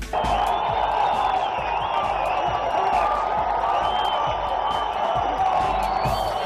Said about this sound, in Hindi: काफी देर तक तालियां बजाई।